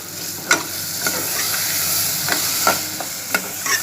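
Eggplant bharta frying in a pan, a steady close sizzle broken by several sharp scraping stirs at irregular intervals.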